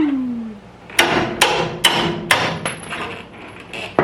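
A hammer strikes a rusted bolt on a trailer leaf spring with about seven sharp metallic blows in a fairly even rhythm, close and loud, the later hits lighter.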